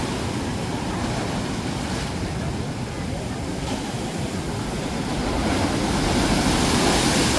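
Strong waves surging along the shore of Davao Gulf, a continuous rushing wash with gusty wind noise buffeting the microphone, swelling louder toward the end.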